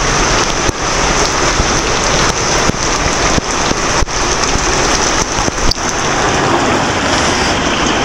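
Heavy rain pours down steadily in a loud, continuous hiss, with a few sharp taps and knocks from drops striking nearby surfaces.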